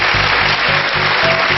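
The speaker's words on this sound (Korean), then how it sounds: "오늘 다 좋은 얘기 해주신 우리 김미령 씨에게도 박수 부탁드리겠고요" A lecture audience claps in a dense, loud sustained burst during a talk show, a brief full-room round of applause.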